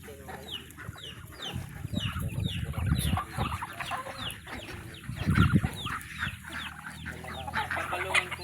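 Chickens cluck repeatedly at close range on a small farm, with rooster calls and other fowl chattering in a busy, continuous mix of short bursts and low thumps.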